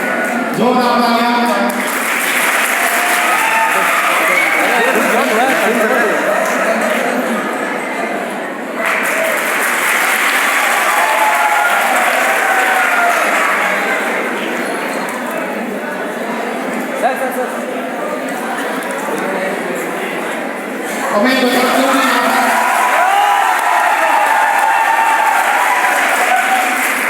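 Audience applause at a school Independence Day prize distribution, loud sustained clapping from a crowd in three long bursts separated by short dips, with a voice talking briefly between them.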